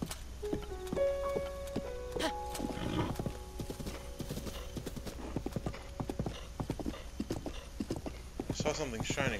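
Rhythmic hoof clip-clop of a horse moving over ground in The Legend of Zelda: Breath of the Wild, with a brief whinny near the start, over a steady game-music background.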